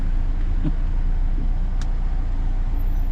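A car's exhaust burbles in sport mode while the car sits in traffic: a steady low engine and road rumble with a couple of brief, soft pops near the start.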